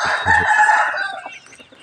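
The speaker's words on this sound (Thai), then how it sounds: "บางก็ขันอกเอกอกเอก" A rooster at the Wat Pong Chai temple grounds crows once, loud and close, a sustained strained call that fades out toward the end.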